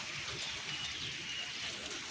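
Steady hiss of rain falling outdoors in India, an even wash of drops with no pauses, moderately loud and close.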